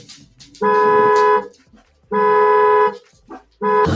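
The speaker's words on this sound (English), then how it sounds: "Oh no, the dogs hear that horn honking." A loud car horn honks in three long, steady blasts separated by short pauses, with faint background noise between them.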